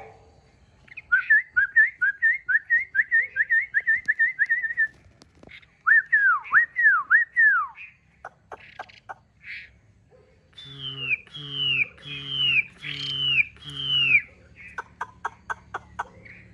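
Captive Chinese hwamei songbirds sing in loud, varied phrases: rapid repeated whistled notes, swooping slurred calls, then rich repeated downward whistles with harsh undertones, close and alone against a quiet background.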